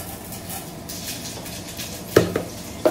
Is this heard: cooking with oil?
yes